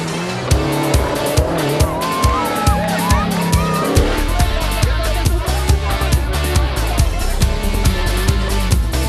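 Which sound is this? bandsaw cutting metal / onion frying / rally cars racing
rally cars racing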